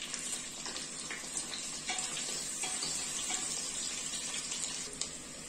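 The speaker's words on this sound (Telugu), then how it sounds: "మీరు బిగ్ సైజు ఆనియన్ ఒకటి, 3 పచ్చిమిర్చి, బ్రౌన్ కలర్ వచ్చేంత వరకు బాగా వేయించుకోవాలి" Sliced onion and three green chillies frying in a pan until brown for a pressure-cooker chicken biryani, a steady broadband sizzle with faint crackles, close and even throughout with no talking.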